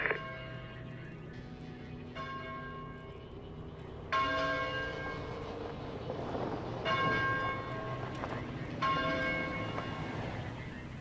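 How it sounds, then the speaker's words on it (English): A church bell tolls repeatedly at a measured pace, each strike ringing out with long, shimmering overtones that hang and fade; the bell sounds moderately distant, with faint background rumble and no voices. "Is that a church bell?"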